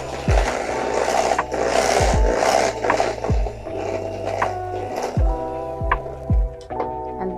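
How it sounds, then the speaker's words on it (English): Cake batter for a vanilla cake being scraped from the sides of a mixing bowl and briefly mixed, with repeated close scraping and knocking strokes against the bowl over a low motor-like hum. "I scrape the sides to still achieve the same purpose that I tried to achieve earlier, scraping the sides, and then just give it another brief mix"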